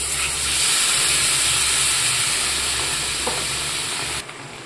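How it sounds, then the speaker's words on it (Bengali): Chicken stock, the water the chicken was boiled in, poured into a pan of well-fried chicken for a dhaba-style chicken bharta; a loud, steady broad hiss and sizzle with low bubbling, dropping away near the end. "এবার আমি চিকেন সেদ্ধ করা যে জলটা ছিল সেটা ঢেলে দিলাম।"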